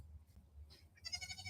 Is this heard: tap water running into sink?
no